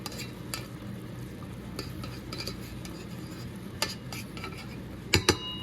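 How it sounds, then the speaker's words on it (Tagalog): Yellow rice stirred in a pot, with soft, faint scraping over a steady low background hum, then a couple of sharp metallic clinks of a utensil near the end. "Pwede natin siyang haluin para magpantay yung kulay niya."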